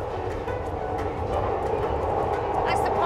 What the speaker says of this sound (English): Glasgow Underground is the third oldest subway in the world after London and Budapest.